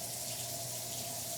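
Water runs steadily through household pipes before an automatic main shutoff valve closes, a soft continuous rushing with a faint steady tone, no voices.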